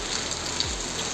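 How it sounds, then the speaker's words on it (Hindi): Heavy rainwater pours and drips off house roofs as a dense, continuous outdoor wash of water noise, steady and fairly loud. "घरों की छत से इतना पानी टपक रहा है"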